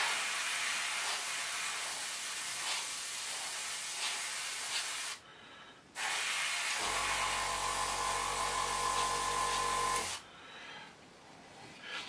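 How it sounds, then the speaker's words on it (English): An airbrush sprays primer over a model in steady, close hissing bursts, with a brief pause in the middle and a low compressor-like hum joining partway through; no one speaks. "it's just enough to get a good atomising spray through the airbrush"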